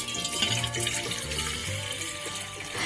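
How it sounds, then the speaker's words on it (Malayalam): Two cups of water poured from a vessel into a pot for Irani tea, a steady splashing trickle with gurgling, close and continuous for the whole stretch, no talking. "ഞാൻ ഇവിടെ ഒരു പാത്രത്തിലേക്ക് 2 കപ്പ് അളവിൽ വെള്ളം ഒഴിച്ചു കൊടുക്കുന്നുണ്ട്."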